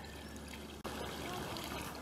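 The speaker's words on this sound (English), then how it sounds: "pour some water in here and show how this will flow down through this trough" A bucket of water poured into a trough trickles and streams along it in a quiet, continuous flow, broken by one brief dropout midway.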